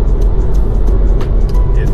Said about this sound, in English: I'm driving through Nevada.